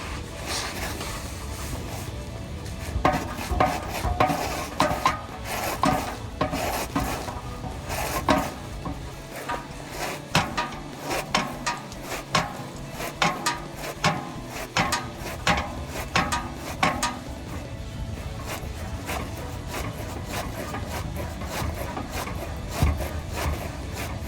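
An exhaust pipe on a 2019-2022 Chevrolet Silverado or GMC Sierra 5.3L is cut with a pipe cutting tool, giving a long run of close, rhythmic ratcheting clicks and metallic scraping with no talk.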